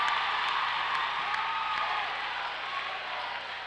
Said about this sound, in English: you hear a big roar from the crowd there